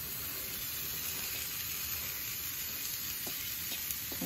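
Beans tipped into a pot of soup set off a steady, even sizzle and frying hiss, moderately quiet and continuous with faint stirring clicks and no voices.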